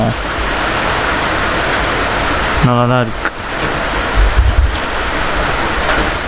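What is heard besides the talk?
light steady rain falling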